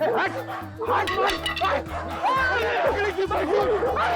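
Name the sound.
dog barking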